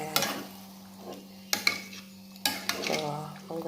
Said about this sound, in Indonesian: Aduk dulu perlahan-lahan supaya bumbunya tercampur dengan